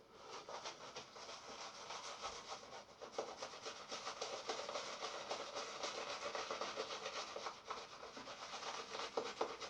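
Bristles of a Pearl shaving brush scrubbing, a soft, rapid, rhythmic brushing rasp repeated steadily and close up, fairly quiet and without talk.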